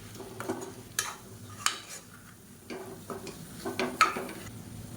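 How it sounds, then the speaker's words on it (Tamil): Chili powder and spice paste sauté in oil, giving a low background sizzle broken by irregular scraping strokes and metallic clinks of a spoon against the pan. "பொடி சேர்த்துட்டு நல்லா எண்ணெயில் வதக்கியாச்சு"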